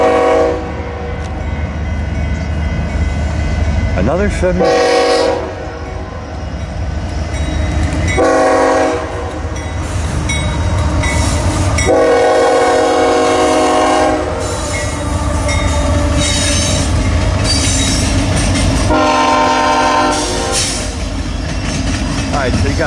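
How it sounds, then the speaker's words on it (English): A westbound double-stack freight train rolls off the former CNW main line onto the Transcon line, loud and close, with repeated horn blasts over a steady rumble of railcars while someone talks throughout. "Here comes a westbound stack train off the former."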